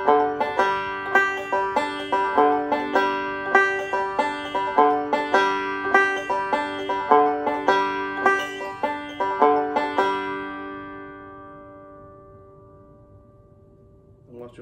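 A bluegrass banjo plays a backup filler roll: bright, rapid plucked notes in a steady rolling pattern with chord accents for about ten seconds, then a ringing decay into near silence, close and alone.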